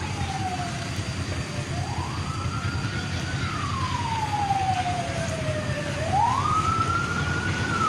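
A fire truck siren wails, rising and falling in long slow sweeps, steady and fairly loud, with a low engine rumble underneath and no talking.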